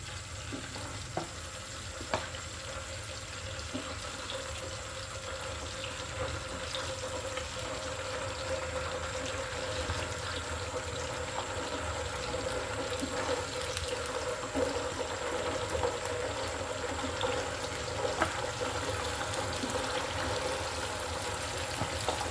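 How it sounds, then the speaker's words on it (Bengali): Chicken pieces frying in hot oil make a dense, continuous crackling sizzle close up, with occasional pops and faint stirring, steady throughout and free of speech. "এবার আমি চিকেনগুলো একটু ভেজে নিব। তেলটা কিন্তু আমি আগেই গরম করে নিয়েছি।"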